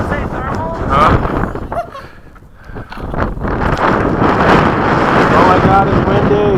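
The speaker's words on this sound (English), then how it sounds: "Oh my god, it's windy!" Strong gusts buffet the microphone in loud roaring bursts at an RC jet flying field, easing briefly midway before surging again, with a voice speaking over the wind.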